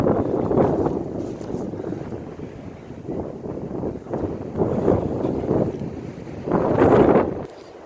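Gusty wind blows outdoors at an abandoned farmhouse, buffeting the microphone in loud, rough surges that swell and ease over several seconds.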